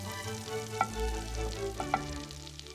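Butter melting and sizzling in a pan left unwashed with browned bits from searing salmon; a soft, close sizzle with a couple of sharp utensil taps on the pan, no voices.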